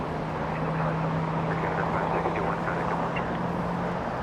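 Steady broadband roar of a Saudi Boeing 777 in special Formula E livery departing from Los Angeles International Airport, heard from a distance as a continuous jet rumble with a faint low hum throughout.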